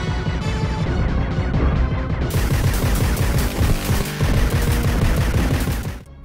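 Gunfire from the Judge Dredd game on Sega Genesis, a dense, loud stream of rapid shots firing continuously for several seconds before stopping abruptly.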